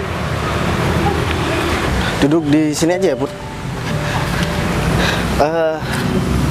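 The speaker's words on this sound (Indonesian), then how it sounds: "di sini berisik banget soalnya kan banyak motor lewat" Motorbikes pass along a busy, noisy street, a steady traffic roar that swells now and then as engines go by, with people talking close over it.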